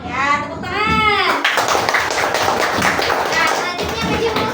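Classroom applause from elementary school children, a dense burst of clapping that starts after a voice and carries on steadily and loudly to the end.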